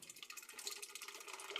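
Dutch Pilsner beer poured slowly into a glass, a steady close liquid splash and fizz with faint foamy hiss, continuous and alone.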